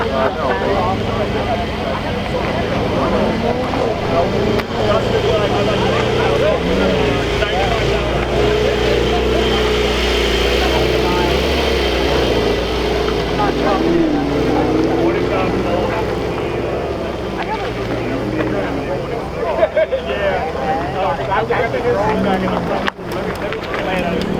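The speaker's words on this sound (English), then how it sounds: "it's a V6 Toyota engine." A Toyota V6 racing engine drones steadily throughout, loud and continuous with slight shifts in pitch, while people talk over it.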